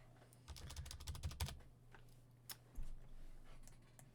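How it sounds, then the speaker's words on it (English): Typing on a computer keyboard, quiet clusters of rapid key clicks followed by scattered single taps and a soft thump, faint and close over a low hum. "if I'm trying to type on my keyboard, you guys can hear every single thing"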